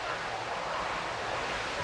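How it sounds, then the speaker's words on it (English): Hurricane Charley's powerful winds striking Port Charlotte, Florida, a loud, continuous roaring rush of wind buffeting the microphone with no letup. "You can see, again, powerful winds and people being blown all over the place"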